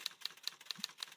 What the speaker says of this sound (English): Pink typewriter?